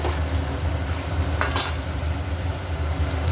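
A spoon stirs a potato, pumpkin and pointed gourd curry with spices in a pan, heard as a steady low frying hiss with one brief scraping clink midway.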